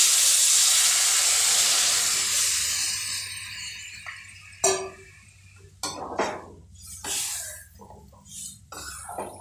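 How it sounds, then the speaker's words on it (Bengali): Water hits a hot pan of egg curry with potatoes, giving a loud sustained hiss that slowly fades, followed by a few sharp clinks of a utensil against the pan. "এবার আমি জল দিয়ে দিচ্ছি।"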